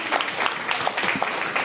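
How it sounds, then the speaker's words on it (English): An audience at a city minimum wage event gives a round of applause, a brief dense burst of many hands clapping, fairly soft and steady throughout. "Give him a big round of applause."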